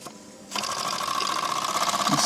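A small model steam engine chugs steadily at close range, a fast mechanical patter starting abruptly after a brief quiet moment and running on evenly.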